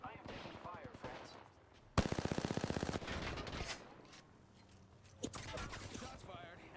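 Rapid machine-gun bursts in a shooter video game, a sharp sustained volley followed by later scattered shots under a player's voice calling out that he is taking fire.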